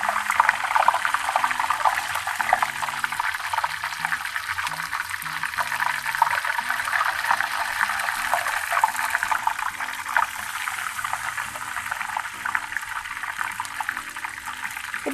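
Zucchini flower fritters flavored with garlic and Parmesan bubble and sizzle in hot frying oil, a steady, dense crackling hiss that holds at an even level throughout with no talk.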